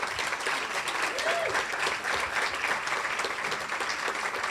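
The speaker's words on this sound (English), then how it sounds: "So please give yourselves a round of applause." Audience applause fills a room at a young professionals' awards show, an even wash of many hands clapping at moderate loudness throughout.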